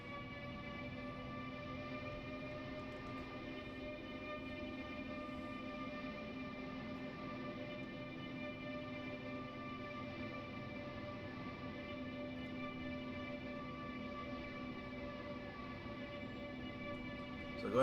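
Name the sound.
train passing through a train wash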